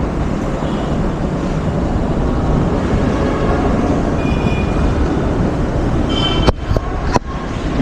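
The inside of a moving MRT train carriage gives off a continuous low rumble with faint rattles, and a few sharp clicks come near the end. No one speaks.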